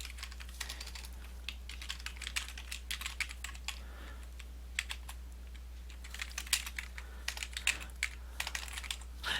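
Someone types text on a computer keyboard, producing a steady stream of light, rapid key clicks over a constant low electrical hum, with brief pauses between words.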